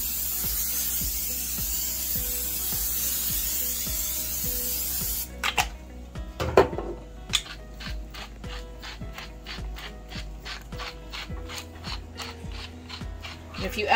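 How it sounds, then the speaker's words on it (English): A steady broadband hiss of cooking spray oil onto potatoes runs for several seconds, then gives way to clattering handling sounds and scattered taps with a low hum underneath. "I'm gonna put spray oil on, and that'll should help them get crispy."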